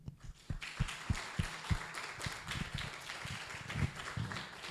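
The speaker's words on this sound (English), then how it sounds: "So a round of applause to all of you" Audience at a neuroscience symposium applauding, scattered individual claps that build into a fairly quiet, moderately paced round of clapping from a seated room.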